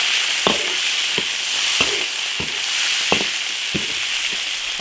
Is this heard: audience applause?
no